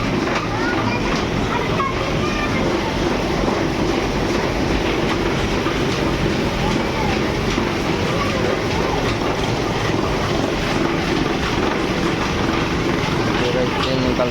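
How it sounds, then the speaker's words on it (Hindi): A train rolling past close by with a loud, steady rumble and clickety-clack of wheels that lasts throughout, while people talk underneath. "कैसे ट्रेन निकल रहा है"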